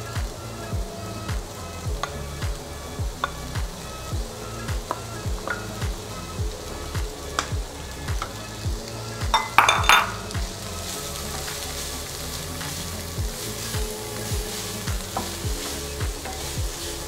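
Crab sticks and carrot stir-fried in a hot pan, steady sizzling with rhythmic spatula scrapes repeating about twice a second, and a brief louder burst of frying midway.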